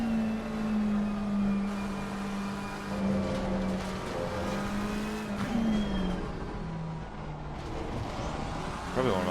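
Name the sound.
race car engine in a video game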